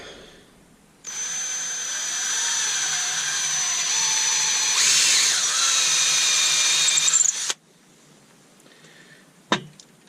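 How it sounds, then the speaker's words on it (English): A power drill with a 7mm bit whines steadily into elm wood for several seconds, pitch rising slightly under load, then stops, followed by a sharp knock. "That's where we're gonna drill our woodworm screw hole"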